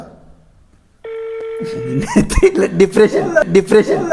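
A phone call being dialed: a steady electronic tone starts after a brief quiet, then laughter and talk take over while the line tone carries on underneath.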